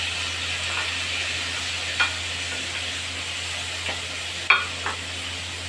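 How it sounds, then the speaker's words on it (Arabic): Vegetables sautéing in a pan for homemade shawarma give a steady sizzle, with a few soft stirring clicks and scrapes scattered through it. "هنبدا ان احنا بقى نشوح الخضار كده"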